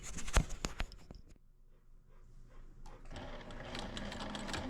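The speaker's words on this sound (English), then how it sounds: "I'm actually going to sew around it and back again, just right next to the one seam, just to have double enforcement." Sewing machine stitching a double-reinforcement seam on fabric for a circular hem, quiet close-up mechanical whirring in short bursts with clicks, a brief pause, then a steady run.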